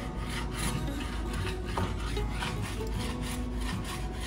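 A hand saw cuts a wooden board down to a scribed line for a large format camera build, with steady back-and-forth rasping strokes, close and continuous.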